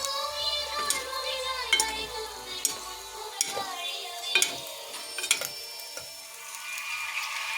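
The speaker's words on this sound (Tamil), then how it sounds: "அதிகமாக எண்ணெய் போடாமல் சிம்பிளாக ஃப்ரை பண்ணி சாப்பிட்றோம்" Paneer frying in a pan with little oil, a soft continuous sizzle broken by irregular scraping and clinking as a utensil stirs it, with faint voices now and then.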